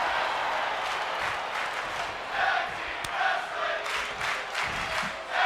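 A wrestling crowd at a tag team show chants in rhythmic swells, a dense, steady roar of voices with periodic louder surges.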